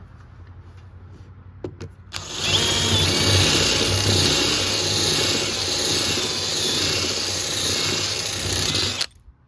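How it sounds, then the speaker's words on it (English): A power drill with a 3/16 bit whines steadily for several seconds as it drills out metal rivets on a 2020 Can-Am Defender Pro HD10, starting abruptly after a couple of small clicks and stopping sharply, close and loud. "I'm gonna show you how I've been drilling these rivets out."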